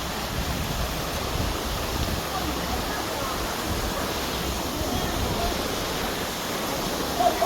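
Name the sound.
flowing stream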